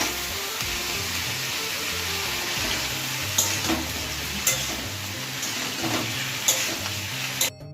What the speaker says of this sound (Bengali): এবার সবজিটাকে ভালো করে ভেজে নেবো